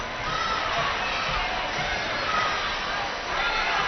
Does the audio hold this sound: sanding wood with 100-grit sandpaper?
no